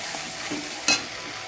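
Garlic and onion sautéing in hot mustard oil, a brief close sizzle with spatula stirring and one sharp scrape or clink near the middle, no talking.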